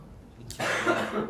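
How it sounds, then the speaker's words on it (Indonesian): A single sharp cough bursts out close by after a moment of quiet room tone. "itu ada yang batuk-batuk juga"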